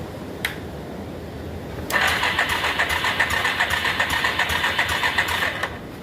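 A turbocharged Yamaha Big Bear ATV engine cranks and catches at about two seconds, then idles steadily with a raspy, even putter close by for several seconds before dropping off near the end.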